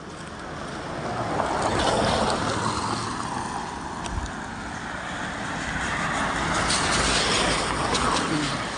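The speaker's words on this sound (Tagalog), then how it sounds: "Oh, dagat yan." Sea waves wash in a continuous broad hiss that swells and eases slowly, with wind-like rumble underneath and no clear talk.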